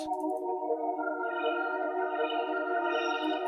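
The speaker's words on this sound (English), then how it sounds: "So that was just the arpeggiated sound." A bright synth plays a rapid repeating arpeggio, tones cycling steadily with a brighter layer joining midway, clean and alone.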